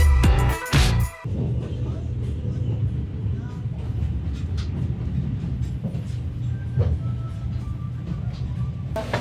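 Rumbling interior of a passenger train riding toward Machu Picchu, a steady low rolling drone with faint clacks, after a brief burst of louder noise at the start; a voice speaks briefly over it.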